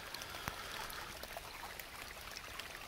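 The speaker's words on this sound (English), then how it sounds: "you can see where the water is flowing over one of the roots in this massive cascade" Water trickles and splashes over tree roots in a small woodland cascade built up by caught debris, a soft continuous burble with scattered drip-like plinks, fairly faint and heard alone.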